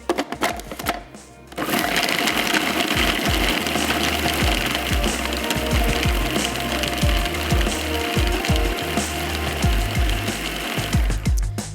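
An electric chopper whirs loudly and continuously as it minces a kebab meat mixture, its motor buzz broken by rapid rattling knocks, starting after a brief pause and running to a sudden stop.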